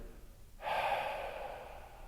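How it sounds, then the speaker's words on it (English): One slow exhale during guided meditation begins after a brief quiet and flows on softly and close to the mic until the end, with no talking. "So as we're exhaling"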